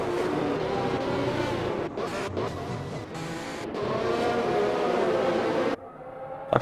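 Formula 1 race cars in a Saudi Arabia round of an online racing game league, engines roaring and revving together at high pitch after a restart, loud and continuous, briefly dipping before cutting off near the end.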